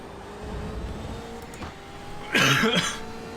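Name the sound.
coughing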